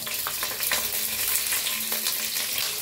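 Green chillies, peanuts, mustard seeds and cumin roast and sizzle in a hot pan, with a steady crackle running throughout and faint scraping accents from the spoon.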